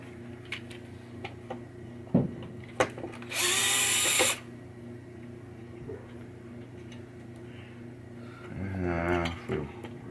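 A power drill backs screws out of a 1967 Williams Blast Off pinball machine during a rebuild, giving one loud, close whirring burst of about a second amid quiet workshop noise and small clicks.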